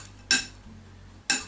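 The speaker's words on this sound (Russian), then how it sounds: "беру обычную ложку и перемешиваю" An ordinary spoon stirs a cranberry and dried apricot filling for an apple-lemon pie, giving two short, sharp metallic scrapes against the bowl about a second apart, fairly close and clear with no voices.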